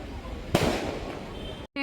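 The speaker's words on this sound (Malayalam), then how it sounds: "നേർച്ചയിലുള്ളതാണ് വെടി പൊട്ടിക്കലും പല ടൈപ്പിൽ" Fireworks and firecrackers at the Kondotty Nercha festival: one loud, sharp burst near the half-second mark followed by a crackling, rumbling spray that fades, over steady crowd noise, then a brief cut.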